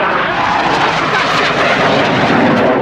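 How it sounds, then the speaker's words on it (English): Two display aircraft flying in formation at Yeovilton Air Day 2017, climbing steeply and splitting, give a loud, steady, continuous engine roar overhead with no talk. "heads up for two-ship formation of Alka in a steep climb and split"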